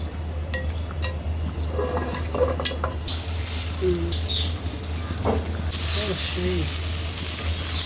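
Whole cardamom, cloves and cinnamon fry in hot ghee under a steady low hum. A soft sizzle swells into a brighter, louder hiss in the second half, with a few light clinks and some voices in the background.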